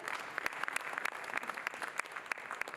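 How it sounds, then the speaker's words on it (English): Audience applause at the Big Cine Expo 2023 panel session, a steady patter of many hands clapping with sharper individual claps standing out, fairly distant and moderately quiet, with no talking. "Can we please have a huge round of applause for them?"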